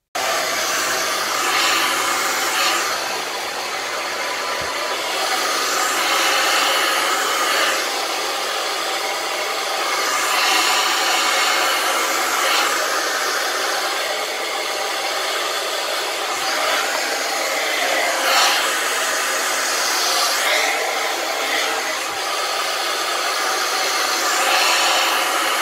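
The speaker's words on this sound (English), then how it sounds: "upside down, rough blow drying it, getting maximum height and volume" A hair dryer roars steadily and close up for the full stretch while rough blow drying a non-surgical hair replacement system upside down, its airflow rising and dipping in pitch as it moves around.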